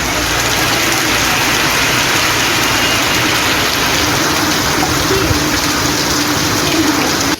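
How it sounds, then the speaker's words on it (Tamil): Heavy rain during a thunderstorm with strong wind in Tamil Nadu, a dense, continuous roar of downpour at constant loudness with no voices. "இடி மின்னலுடன் கனமழை பெய்தது"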